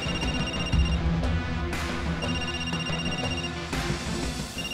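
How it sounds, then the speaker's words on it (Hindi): A telephone rings in a repeating electronic pattern, bright tones sounding several times over a busy background. "कल्याणी मैनू फोन क्यों कर रही है?"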